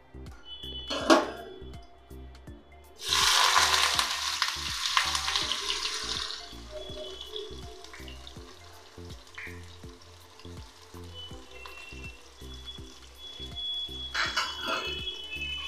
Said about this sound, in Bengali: শুকনো লঙ্কাটা ভাজা হয়ে গেছে, এবার আমি এটাকে তুলে এবার পেঁয়াজটা ভেজে নেব